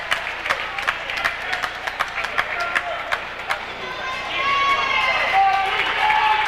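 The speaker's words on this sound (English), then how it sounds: "Mumford comes out to a very rousing applause" Crowd applause and cheering rise at a boys varsity high school basketball game between Mill River and Windsor as a bench player checks in, with a commentator talking over the noise and sneaker squeaks in the gym.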